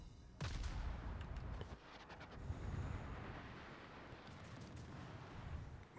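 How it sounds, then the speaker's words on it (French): Gunfire from other players in the video game World Of Wars: a string of muffled booming shots and crackling bursts, fairly faint and distant-sounding, with no talk over them. "on peut suivre les tirs des autres."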